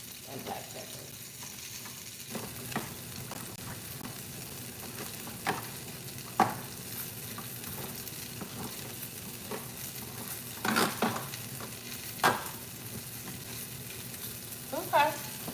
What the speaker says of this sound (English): So just so you can see, searing on both sides.